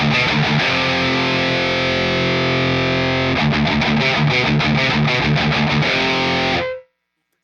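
Palm-muted electric guitar through an overdrive pedal with a built-in noise gate, with a steady chugging chord that shifts into rapid choppy muted strums, loud and alone, then cut to silence by the gate.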